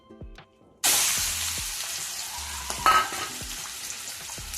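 Marinated chicken hits hot oil with a sudden loud sizzling burst after a quiet moment, then a sustained crackling fry with a few stirring clatters, close and alone.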